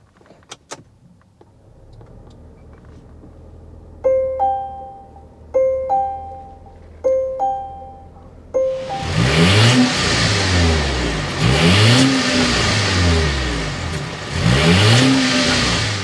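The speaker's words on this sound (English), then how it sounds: "so you can hear that exhaust note" A few beeping chimes and clicks, then the engine of a 2024 Volvo XC90 B6 Ultimate SUV cranks and fires, followed by several loud exhaust revving bursts rising and falling.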